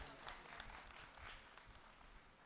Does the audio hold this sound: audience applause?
yes